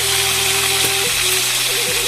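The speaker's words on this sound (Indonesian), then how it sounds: "Ini lagi goreng ikan." Fish frying in hot oil during Sundanese home cooking, a loud continuous sizzle close by with a steady hiss and faint tonal hum underneath, no talking.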